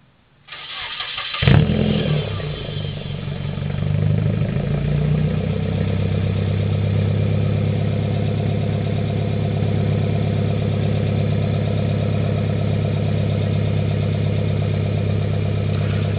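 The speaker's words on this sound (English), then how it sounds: "I'll start it up with my remote start on my alarm so you can hear it, and I'll give you a little bit of rev." A Nissan S13 with a KA24DE engine and a straight-pipe dual 3-inch catback with three tips: a short crank, then the engine catches with a loud burst, settling into a steady, deep, rumbling idle that goes on at a constant level.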